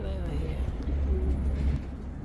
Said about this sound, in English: Pigeons, oh here they are.